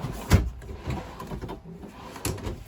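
A drawer in a 2022 Forest River Sunseeker 3050 RV slides and bumps, with a few close, soft knocks and rattles and no talking.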